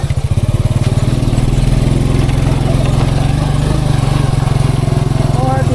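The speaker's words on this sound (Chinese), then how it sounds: "幸亏这个摩托车给力啊，上坡挂一档，贼有劲，多陡的坡也能上" A motorcycle in first gear climbs a steep dirt slope near the Mekong border, its engine a loud, close, rapidly thumping drone that holds steady under strain.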